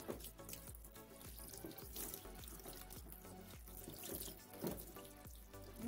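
Running water from a tap pours steadily over a Barbie doll's hair as it is wetted, a continuous close splashing and trickling with no voices.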